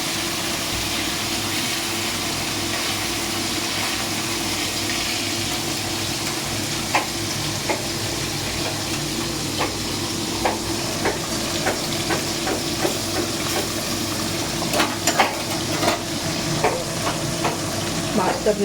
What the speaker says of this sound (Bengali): মাছটা ভেজে তুলে নেবো